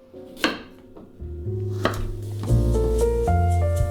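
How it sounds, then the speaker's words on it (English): Peeled parsnips chopped into rough pieces with a knife on a board, several sharp, separate knife thunks at an uneven pace, close and clear, followed by a steady low hum. "Then I just chop them into rough pieces."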